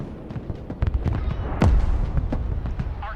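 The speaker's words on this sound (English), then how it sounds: "That was enemy artillery." Enemy artillery fire in the video game Broken Arrow: scattered distant booms and crackling impacts, with one louder, closer blast about halfway through that has a falling rushing tail, over a steady rumble of battle.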